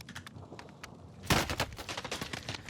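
Gunshots in Call of Duty Warzone: a few scattered sharp cracks early, then a loud burst of gunfire and rapid follow-up shots, at moderate distance.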